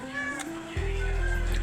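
A house cat meows in a home kitchen, one clear, drawn-out meow that is close and fairly loud, with no talk over it.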